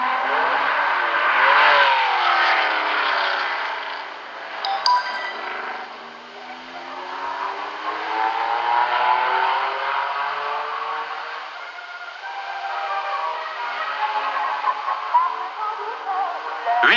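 Race cars at the 1971 Le Mans 24 Hours roar past in a continuous engine wash, pitch rising and falling as cars approach and recede, loud and sustained throughout with no talking.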